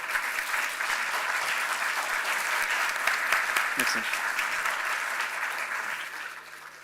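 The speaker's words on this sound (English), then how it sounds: "I would like a big applause for all panelists." Sustained applause from a conference audience for a panel at a European environment network conference, loud and steady throughout before tapering at the end, with a brief spoken thanks over it.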